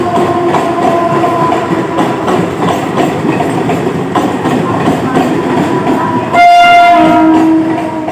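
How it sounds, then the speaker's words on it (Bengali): A passenger train pulls into Naihati station with steady loud rumbling and wheel clatter, then sounds a long blaring horn near the end. "নৈহাটি স্টেশনে ট্রেনটা পৌঁছে গেল"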